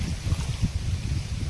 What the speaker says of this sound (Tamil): பா காற்று பாருங்க எப்படி அடியுது